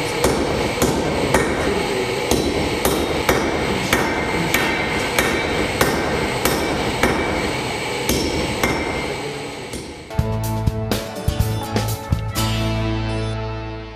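Mechanical forging hammer pounding hot metal in a blacksmith shop, loud, regular heavy blows over a constant machine hum, then a faster flurry of ringing strikes near the end.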